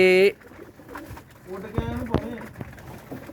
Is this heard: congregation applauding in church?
no